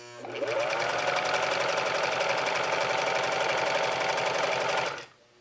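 A sewing machine runs steadily while stitching a seam on a dress, its fast mechanical chatter loud and close for about four and a half seconds before stopping abruptly.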